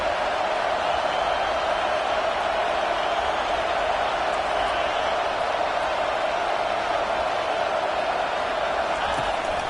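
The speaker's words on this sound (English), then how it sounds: "Decibels rising as the crowd gets behind this defense on 3rd down." A football stadium crowd roars steadily for the defense on third down in a Texas versus CU game, a dense continuous wash of cheering that holds at a constant loud level for the whole stretch.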